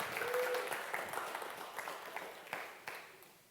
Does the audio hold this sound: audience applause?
yes